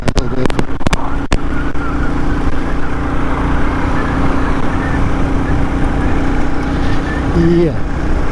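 A Royal Enfield Classic 350 single-cylinder motorcycle pulls hard to overtake on the road, a loud, steady engine drone with wind rush, opening with a few sharp knocks and ending with a brief rising tone.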